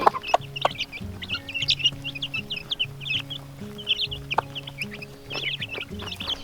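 Several chickens in a mobile coop cluck and chatter continuously, with short repeated calls overlapping at close range, plus occasional sharper squawks and scattered knocks in the background.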